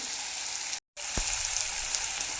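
Tomatoes sautéing in a pan, a steady hiss of frying with a brief gap and a single low knock, close by and without voices.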